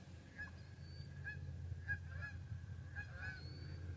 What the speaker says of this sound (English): here comes 3 geese